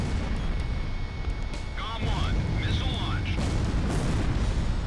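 Unguided bombs blasting civilian houses and windmills in the Ace Combat flight game, a dense continuous roar of explosions and rumbling booms under steady jet noise, with a few faint whistling tones.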